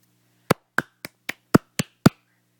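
A baby's hands clap seven times in an even, steady rhythm, each a sharp, close slap with no talk over it.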